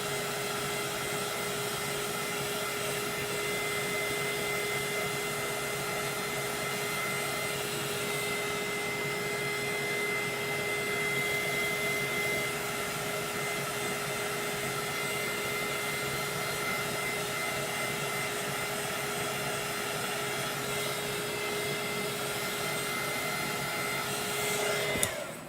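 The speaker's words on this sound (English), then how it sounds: "So let me grab my handy dandy heat gun" A heat gun blows steadily to dry copper on a scrap-wood shelf, a continuous airy whine with a faint tonal hum that holds evenly for about 25 seconds and ends with a small click.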